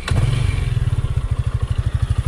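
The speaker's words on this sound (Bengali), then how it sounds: "রাইড করার আগে একটু বাইকের এক্সজস্টের সাউন্ড একটু আপনাদের শোনাই দিই।" A Suzuki Gixxer 155 motorcycle starts up close by, then its exhaust settles into a loud, even idle with a regular thumping pulse and no voices.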